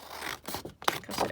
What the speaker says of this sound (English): I'm just going to cut this red down